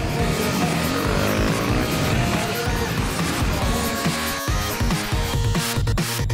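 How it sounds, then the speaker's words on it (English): Enduro motorcycles race through a city scramble course toward a wall ride, with a dense, loud blend of revving, high-pitched engines from the pack, continuous and close with no pause. "Chris Birch has a faultless start and leads the pack going into the wall ride"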